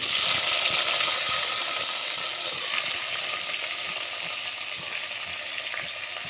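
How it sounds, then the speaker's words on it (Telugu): Chopped tomatoes sizzle and fry steadily in a pan for a tomato chutney, with a continuous crackling hiss and occasional scraping stirs of a ladle, close and fairly loud, no talking. "ఇలా కట్ చేసుకున్న టమాటాలను వేపిస్తున్నాం"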